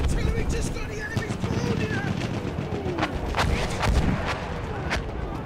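Battlefield 1 assault battle at St. Quentin Scar, with dense gunfire, machine-gun bursts and booming artillery fire rolling under a constant roar of battle noise, loud and continuous throughout.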